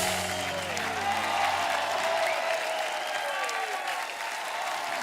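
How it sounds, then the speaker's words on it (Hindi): The studio audience of a comedy talk show applauds the Drishyam 2 cast with a sustained, strong roar of clapping, some crowd cheering and faint tonal background music underneath. "दृश्यम की एक बार जोरदार तालियां हो जाए।"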